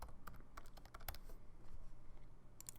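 Keys tapped on a computer keyboard as a password is entered during email account setup, an irregular run of close, crisp clicks with brief pauses and a few quick clusters.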